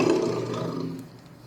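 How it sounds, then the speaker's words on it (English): A lion roars once, a loud, deep, rough bellow that swells at the start and fades out over about a second and a half. "Now let us see how is the sound of a lion when it roars."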